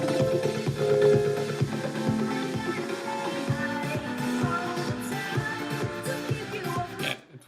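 Dense, clashing music from an Ableton house DJ mix, with random off-key chords laid over the track, playing loud and continuous without speech until it cuts off near the end.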